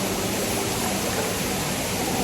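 A cold waterfall in the jungle pours down as a loud, continuous rush of water that fills the space evenly, with no voices over it.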